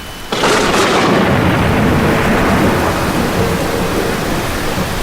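A loud thunderclap opens a stormy night, breaking into a heavy, sustained rumble with steady rain washing underneath that slowly fades but never stops.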